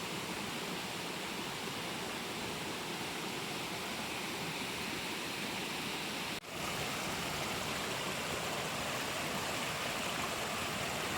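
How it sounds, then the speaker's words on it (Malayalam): A waterfall rushes with a steady, dense roar close by, unbroken except for a brief dip partway through. "വലിയൊരു വെള്ളച്ചാട്ടത്തിൻ്റെ ശബ്ദം തന്നെ ഇവിടെ അടുത്ത് നിൽക്കുമ്പോൾ"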